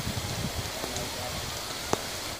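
Steady rain falling outdoors in Monklands, St Thomas, Jamaica, a dense continuous hiss with scattered drops and one sharp knock.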